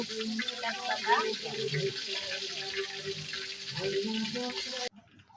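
Spices and oil fry together in a pan with a soft, continuous sizzle, and voices talk over it before the sound cuts off abruptly near the end.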